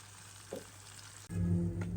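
Crab dropped into hot oil for a second frying bursts into a louder sizzle partway through, after a quiet background bubbling at the start.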